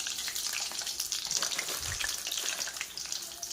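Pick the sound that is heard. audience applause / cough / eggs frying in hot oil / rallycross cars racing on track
eggs frying in hot oil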